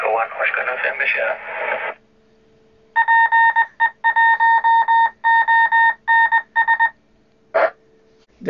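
Two-way radio repeater sending its call sign as a series of clipped, pulsed tone bursts with short gaps, loud and close, preceded by a voice speaking over the radio channel.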